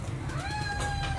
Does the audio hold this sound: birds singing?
no